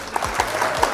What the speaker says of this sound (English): round of applause for opponent